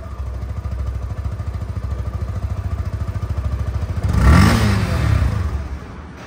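A 2022 Yamaha FZ-3 motorcycle idles with a steady, even engine throb, then revs sharply once and settles back, close and loud, with no talk.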